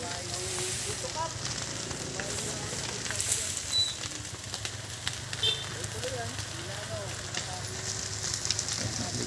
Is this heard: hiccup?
no